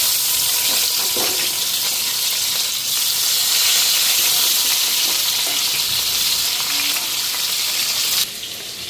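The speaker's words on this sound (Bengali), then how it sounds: "এখন আলু বেগুনটা ফ্রাই করে নিই" Potato and eggplant frying in hot oil, a loud, steady sizzle and crackle close by that continues throughout with no voices.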